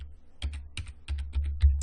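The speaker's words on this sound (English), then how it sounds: "I'm going to type in a username" Quick, uneven keystrokes on a computer keyboard as a username is entered, a short close burst of clicks with no talking.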